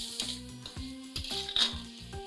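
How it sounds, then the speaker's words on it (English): French beans and other vegetables sauté in a pan, giving a soft sizzle under repeated metallic clinks and taps of a utensil against the pan, close and fairly quiet. "Now just add 100 grams of French beans. Sauté this for a minute."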